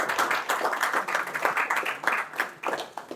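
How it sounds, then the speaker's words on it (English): Audience applause rings out at a PostgreSQL meetup talk, a steady crowd clapping that fills the room for a few seconds without pause, moderately loud and close. "let's encourage with a round of applause to Lahari."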